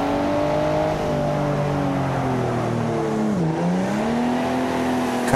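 Simulated car engine in BeamNG.Drive revving steadily with rising and falling harmonic tones, dipping sharply as it loses grip and skids, then climbing again; loud, continuous and close, with no voices.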